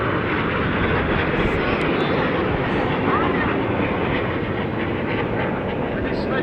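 Red Arrows jets at an airshow over Clacton in 2015 roar overhead as a steady, loud, broadband engine rush that fills the whole stretch, with a commentator's voice partly audible beneath it.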